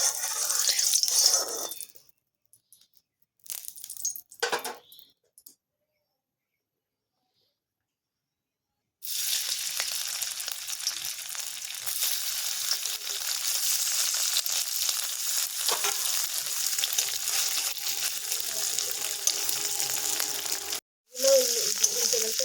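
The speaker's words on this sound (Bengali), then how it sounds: "তেলটা গরম হয়ে এসেছে, এখানে আমি পনিরটা দিয়ে দেব।" Paneer frying in hot oil, heard as a steady close sizzle with crackles that starts after some quiet, scattered handling noises and runs on for many seconds before a short break and a renewed burst.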